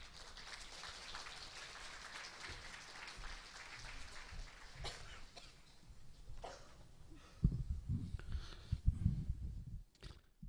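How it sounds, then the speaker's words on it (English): Applause from the audience at a science and technology conference in Korea, fading from steady clapping into scattered claps and low thumps and handling noise near the end. "Please give him a warm applause."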